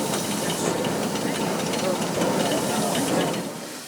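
Steam hissing from the Nickel Plate Road 765 steam locomotive on a crisp November day, a steady broadband rush that holds for the whole stretch and eases a little at the end, with faint voices beneath.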